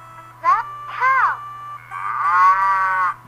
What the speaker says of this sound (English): Oh, that's definitely the cow.